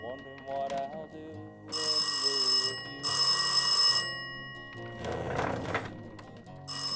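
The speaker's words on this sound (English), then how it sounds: "goes to answer the phone" Two long bursts of a classic telephone bell ringing in a home, loud and alone, separated by a brief pause, with a third ring starting at the end; soft talk and movement come before and between them.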